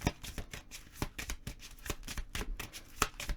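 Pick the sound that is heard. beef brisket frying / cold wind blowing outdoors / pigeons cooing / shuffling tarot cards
shuffling tarot cards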